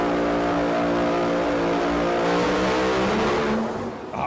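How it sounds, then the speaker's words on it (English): An alcohol funny car roars down the drag strip on a solo pass, its engine a loud, harsh, strongly harmonic blare that holds steady and then drops away sharply near the end. "Always love it when you get to hear one of these alcohol funny cars on a single."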